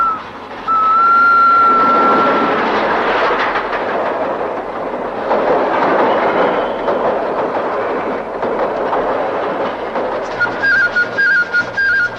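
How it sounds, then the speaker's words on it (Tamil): A train passing close by, a loud rumbling roar of rolling wagons with clattering wheels and a brief high whistle near the start, followed by rhythmic clicks as it continues past. "ரயில் வருது வேடிக்கை பார்த்துட்டு போ"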